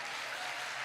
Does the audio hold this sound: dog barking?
no